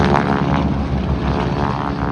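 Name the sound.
propeller airplane doing a single ship flyby at airshow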